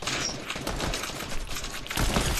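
Shotgun fire in a video game, a rapid fusillade of sharp blasts packed close together and loud throughout, with no voices over it.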